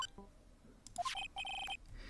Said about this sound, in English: Nick, your cell phone's ringing.